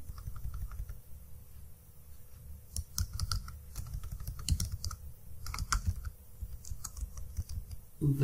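Typing on a computer keyboard, close and clear, with quick irregular runs of keystrokes and short pauses over a low background hum.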